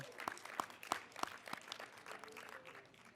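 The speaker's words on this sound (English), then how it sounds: "So everybody give yourselves a round of applause, please" Scattered claps from a small conference workshop group, a few sharp hand claps standing out early, thinning into light patter with faint background murmur.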